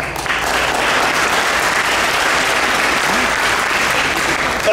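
A crowd at a community dinner applauds loudly and evenly, a dense, unbroken clapping that fills the room for several seconds.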